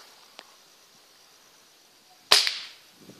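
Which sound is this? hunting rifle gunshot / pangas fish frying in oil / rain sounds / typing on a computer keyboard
hunting rifle gunshot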